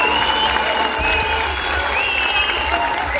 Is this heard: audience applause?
yes